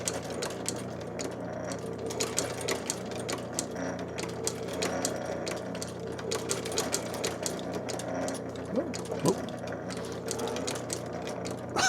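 A sewing machine runs back over a few recent stitches to lock them in, a steady close mechanical whir with rapid rattling needle clicks throughout, with no talk.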